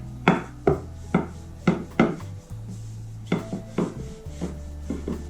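A rolling pin works flour-dusted dough into flat rounds for Dagestani chudu filled with cheese and greens, giving a series of close, regular wooden knocks and thuds on the board with soft rubbing between them and no voices.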